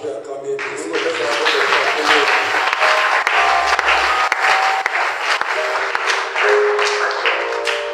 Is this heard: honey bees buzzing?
no